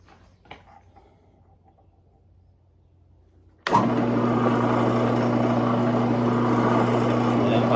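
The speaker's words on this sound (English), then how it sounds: "Put a little more oil on her since we put a new bit. Now it should bore straight on through." A drill fitted with a new, freshly oiled bit boring through scrap metal: near-silence broken by a faint click, then the machine bursts on loud and close, holding a steady whirring grind.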